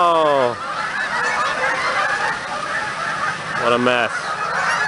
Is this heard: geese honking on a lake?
yes